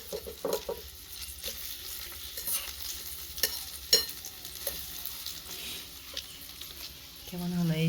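A big egg frying in a small pan on a mini stove, a faint steady sizzle broken by light taps and scrapes from stirring.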